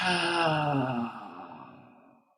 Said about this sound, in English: So hold that in and then just release your breath.